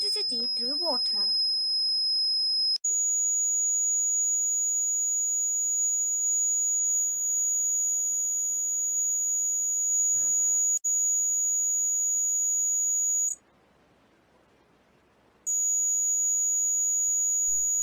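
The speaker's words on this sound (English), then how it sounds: "As more ions are formed, the loudness of buzzer ringing increases." Buzzer in a saltwater conductivity circuit from a children's science kit, sounding a steady high electronic tone that runs almost continuously, with brief cutoffs and one gap of about two seconds before it resumes.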